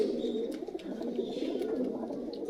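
Pigeons coo in a loft, a soft, continuous low murmur of overlapping calls held at a steady level throughout, with no voices over it.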